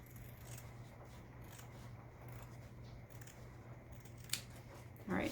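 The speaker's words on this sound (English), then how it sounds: "I'm just cutting around the outside edge" Scissors snip around the outside edge of fabric for a buffalo check shelf sign, a quiet steady cutting rasp over faint background hum.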